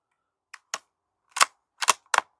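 A Remington Nylon .22 rifle fires five sharp, close shots downrange, two single cracks and then three quicker ones, with silence between them.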